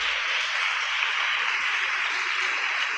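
Steady, dense applause from a church congregation at a Sunday school teaching, a continuous even wash of clapping with no pauses and no voices on top.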